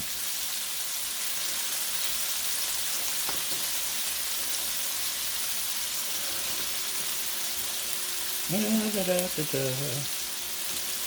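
Burgers and buttery brioche buns fry on an indoor Blackstone E-Series electric griddle, giving a steady, even sizzle throughout, with a brief clatter near the end as food is moved on the hot surface.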